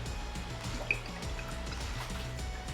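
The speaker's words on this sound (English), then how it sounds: "In another pan, pour some olive oil in" Olive oil poured into a pan while cooking linguine and clams, heard as a soft, faint liquid trickle and light dripping, with a quiet background and a single brief sharper drip.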